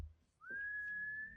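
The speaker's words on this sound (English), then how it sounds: "Only to hear the whistling again and getting closer." A single whistled note at night slides upward, then holds steady and clear for about a second. It is fairly loud and heard alone.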